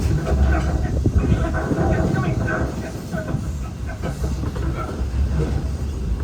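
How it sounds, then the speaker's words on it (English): The Magic Kingdom Express train at Walt Disney World rumbles along the rails, a steady low clatter with busy mid-range noise, and voices mixed underneath. "It's a train."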